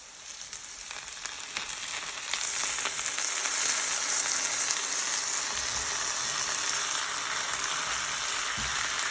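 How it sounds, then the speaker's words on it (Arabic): Chicken sizzles as it frys in a pan with lemon, garlic and sumac for Iraqi musakhan: a dense, continuous crackling hiss, loud and close, building slightly and holding steady throughout. "هنا راح أضيف الدجاج."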